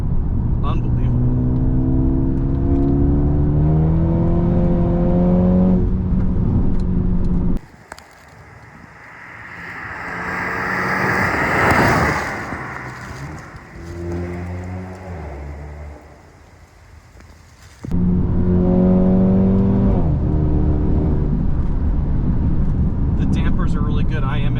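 A 2020 Mercedes-Benz A35 AMG accelerating hard out of a corner, a loud rising engine roar with rushing wind noise between stretches of someone talking over the cabin.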